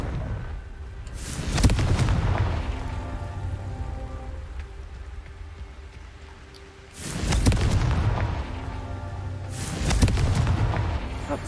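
Three heavy booming bursts from the Confringo explosion spell in Hogwarts Legacy, each a loud broadband blast with a rumbling tail, spaced a few seconds apart over a steady low game ambience.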